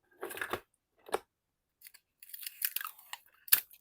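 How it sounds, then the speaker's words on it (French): Adhesive tape pulled off a roll and pressed down while fixing a bit of thread onto a page, heard as several short crackly rips and taps separated by silence, close and fairly quiet. "Alors, je scotche mon bout ici."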